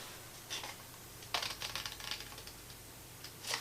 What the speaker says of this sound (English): we're going to cut along this line here